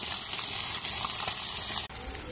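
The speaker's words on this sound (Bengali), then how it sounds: "মাছ ভাজা বসিয়ে দিয়েছি, আস্তে আস্তে মাছগুলো ভাজা হচ্ছে।" Fish sizzles in hot oil in a pan, a dense, continuous close frying hiss that runs steadily and cuts out briefly near the end before resuming, with no clear talk.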